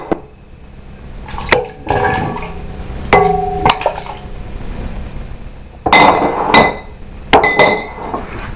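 Soup ingredients are added into a Dutch oven: tomatoes, carrots, Thai peppers and basil. Irregular clunks and clinks of food and utensils hitting the pot come in separate bursts, fairly close, with no talking.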